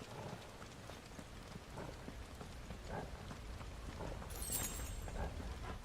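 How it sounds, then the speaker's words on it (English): Steady rain falls and patters on surfaces in the Final Fantasy XVI video game, a continuous moderate wash of drops with no voices over it. "we would have, like, an innate, like, dislike of the sound of rain"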